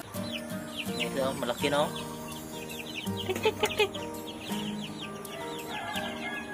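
Rhode Island Red chicks peep and cheep in a scattered, busy chorus close by, with brief talking over them.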